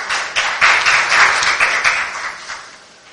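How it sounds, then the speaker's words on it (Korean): An audience applauds with a dense wash of clapping that swells, holds for a couple of seconds, then tapers off toward the end. "큰 박수 부탁드립니다."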